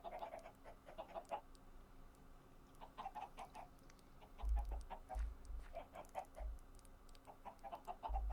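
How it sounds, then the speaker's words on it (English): Chickens clucking in a video game, short repeated bursts of soft clucks in irregular clusters, fairly quiet, with a few low thumps near the end and no talk. "Chickens."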